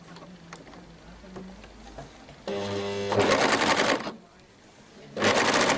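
An overlocker serger runs over its thread chain to lock the seam end, a fast mechanical whirring in two close bursts with a brief pause between, after quieter handling sounds.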